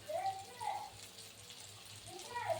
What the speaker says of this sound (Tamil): 10 நிமிஷத்துக்கு இது மாதிரி கொதிச்சுட்டே இருக்கும்.